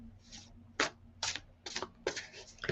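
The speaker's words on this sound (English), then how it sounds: "I'm still shuffling." Shuffling a deck of tarot cards: a string of short crisp riffling bursts, about seven in quick irregular succession, close and fairly quiet, without speech.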